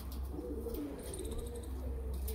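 A female pigeon cooing softly in a loft, a few low, gentle coos over a steady background hum, faint and fairly near.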